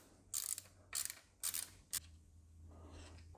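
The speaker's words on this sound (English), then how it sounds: "these can be removed with a Torx 45" A Torx 45 bit loosens a timing chain guide bolt on a BMW M51 engine, giving four short sharp ratcheting clicks in bursts, close and distinct, over a low hum.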